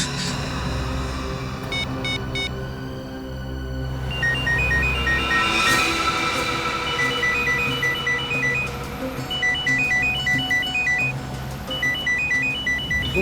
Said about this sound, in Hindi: उनकी घंटी सुनाई दे रही है ना?